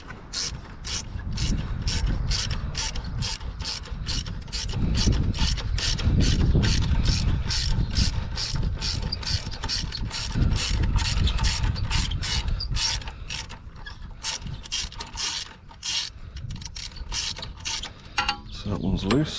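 A ratchet clicks in a steady, rapid rhythm while loosening bolts on an Audi TT MK1 turbo, heard close up with metallic rubbing and a low rumble underneath.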